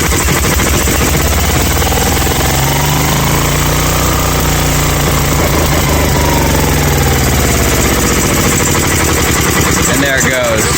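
A Lincoln welder's engine on a service truck runs loud and close, a rough, steady mechanical drone with some irregular knocking, ending in a brief change of tone near the close.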